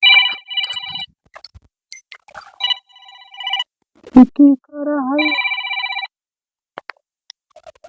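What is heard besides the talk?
mobile phone ringing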